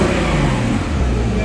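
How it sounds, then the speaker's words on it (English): A Porsche 911 Speedster engine revs loudly and steadily at close range, its dense mechanical roar filling the whole moment with no break, while a voice talks underneath. "Okay, just one more rev then."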